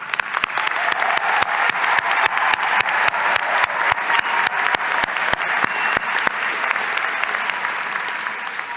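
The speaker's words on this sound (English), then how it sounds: "let us take a moment to acknowledge that with a round of applause" Audience applause at a spring college graduation convocation, steady dense clapping with some sharp louder claps standing out, sustained throughout.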